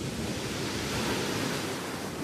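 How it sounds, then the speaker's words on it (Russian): Steady rushing wash of sea waves on a shore, a continuous broad roar with no voices. "Шум моря"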